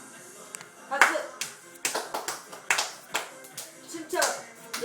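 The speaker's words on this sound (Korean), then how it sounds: "박수." Hands clap several times at a steady, uneven pace close by, with people talking and encouraging a child to get up and dance at home.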